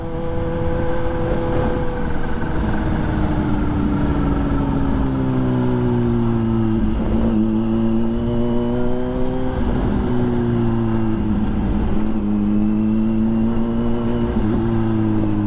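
A motorcycle rides along a street, its engine droning steadily and loudly, the pitch rising and falling as the rider shifts and changes speed.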